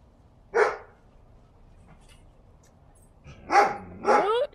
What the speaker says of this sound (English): You see the big doggy?